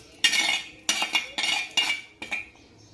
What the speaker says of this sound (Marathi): ते पनीर आता मी याच्यामध्ये सोडणार आहे। तर हे बघा ह्या ग्रेव्हीमध्ये सोडून घेऊ।